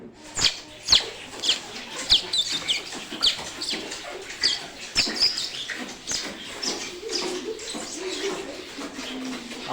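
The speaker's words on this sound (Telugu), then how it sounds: "ఎన్ని పిచ్చుకలు అరుస్తున్నాయి కదా," A crowd of sparrows chirps in quick, overlapping bursts, a busy scatter of small high calls at moderate distance that keeps going without pause.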